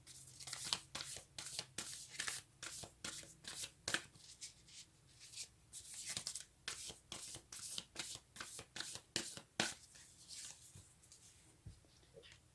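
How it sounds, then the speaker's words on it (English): Tarot cards shuffled and drawn close up, a steady run of quiet papery riffles and snaps that repeats unbroken, with no talk. "And then we'll take a few cards,"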